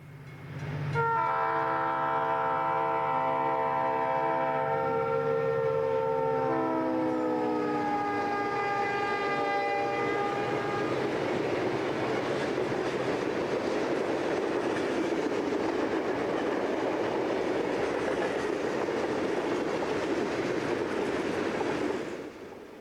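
Northbound Union Pacific freight train rattling through downtown Bell City by the Mississippi River, a horn blast sounding several times before a steady loud rumble and clatter of wagons that fades out at the end.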